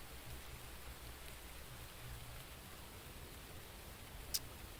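Rain patters steadily outside with a soft, continuous hiss. A single faint tick sounds near the end, and nobody speaks.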